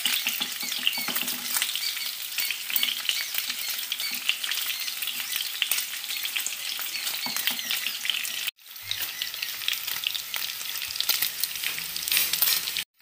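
Paneer pieces, just flipped, sizzle vigorously in hot mustard oil in a kadai. The frying is a dense, even crackle heard close, broken once by a brief cut, with no talking.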